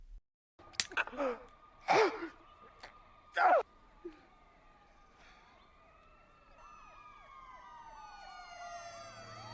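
A few sharp bangs ring out, then a fire engine's wailing siren approaches from a distance, its rising and falling tones growing steadily clearer.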